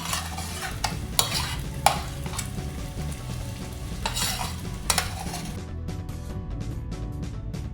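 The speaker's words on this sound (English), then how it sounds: "the water is almost out of the content and the splattering has greatly reduced" Ground coconut slurry cooks down into oil in a pan, giving a steady close sizzle and bubbling with several sharp splattering pops early on that thin out toward the end; no voices.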